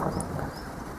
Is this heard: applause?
no